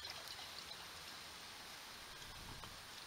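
Water is poured into a pot for boiling on a cheap folding woodstove. A soft, continuous stream runs for about three seconds at low volume, close by, with no talking over it.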